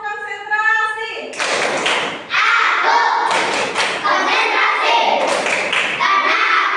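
Schoolchildren clapping a rhythm in a classroom, repeated loud clap bursts broken by short pauses, with children chanting together.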